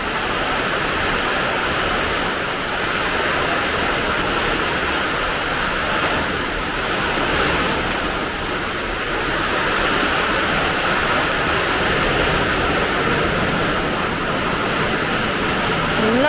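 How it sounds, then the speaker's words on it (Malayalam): A strong wind roars loud and unbroken for the whole stretch, a dense rushing noise like heavy rain or a waterfall, with no break in it. "നോക്കിയേ, കാറ്റ് ഭയങ്കര കേട്ടോ."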